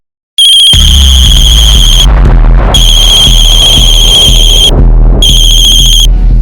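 An incoming call rings on a mobile phone, a loud electronic ringtone sounding in three long bursts with short gaps, alone with no talk over it.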